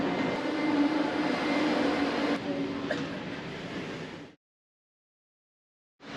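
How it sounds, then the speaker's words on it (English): Steady broadband rumble of a train ride through Rome, loud and continuous inside the carriage for about four seconds, with a brief metallic click partway through, then a cut to silence before the noise resumes. "So, Peg, we've been on a train and a couple of metros."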